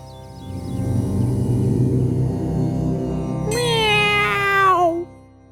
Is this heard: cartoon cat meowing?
yes